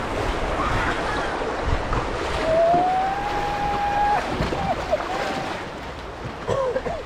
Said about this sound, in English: Even the small waves are coming over.